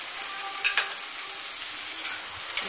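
Flour being stirred as it fries with corn and mushrooms in a pan, a steady soft sizzle with a few light scrapes of the spoon, close and continuous, with no talking.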